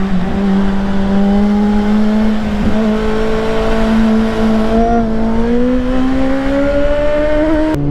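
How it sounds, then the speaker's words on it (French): A motorcycle engine revs hard and holds high, climbing slowly without ever reaching the rev limiter; a loud, close, sustained droning whine that rises in pitch through the run. "là quand j'accélère ça rupte pas, regarde"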